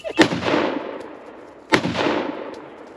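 Two loud rifle gunshots fired outdoors at a Tannerite target, each a sharp crack with a long rolling echo, spaced about one and a half seconds apart.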